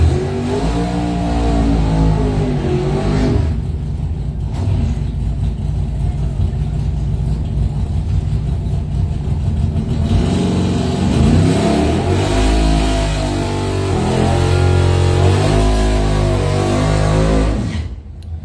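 A Plymouth Belvedere II race car revs hard at a drag strip during a bracket final round, its engine loud and near, climbing and falling through repeated throttle blips and sustained high revs with another engine audible alongside.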